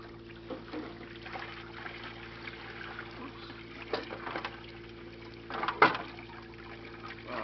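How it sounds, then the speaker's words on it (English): Water rinses gold sluice concentrate with black sand during a recirculating sluice clean-up in San Diego, a low steady trickle and splash with a louder gush near the end, close by. "And I'm just gonna rinse this all off."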